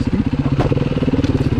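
A four-stroke 390 dirt bike being ridden, its close, loud single-cylinder engine thumping in rapid regular pulses with some rattle and crunch over the top.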